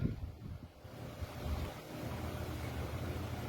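Strong storm wind and rough waves surge around a boat on the water, a steady roaring rush that swells and eases without any voices.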